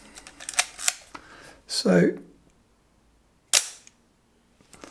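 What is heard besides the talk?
Leica M6 camera cloth shutter firing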